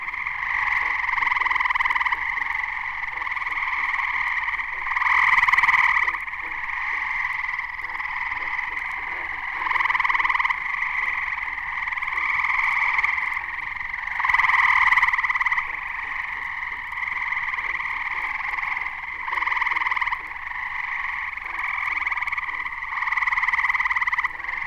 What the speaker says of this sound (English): Now a chorus in which the tree toads are joined by a few banjo-like green frogs.